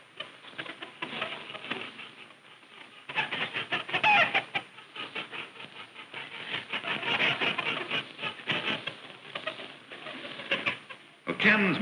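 Molting hens on a farm clucking and murmuring in uneven bursts, soft to moderately loud, with scattered rustling and patter between calls and a voice talking over part of it.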